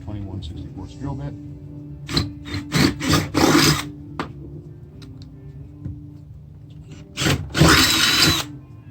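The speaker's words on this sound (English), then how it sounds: "take your 21/64 drill bit." A power drill with a 21/64 bit bores into a Ford Super Duty truck door, in several short whirring bursts separated by pauses, with a longer louder run near the end.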